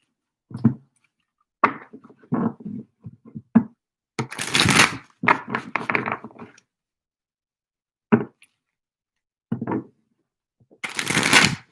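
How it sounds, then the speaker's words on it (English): A deck of reading cards is shuffled in several bursts of riffling and slapping, close and crisp, separated by short silences. "I'm just gonna shuffle out"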